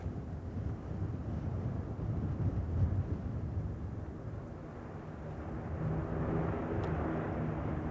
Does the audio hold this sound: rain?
no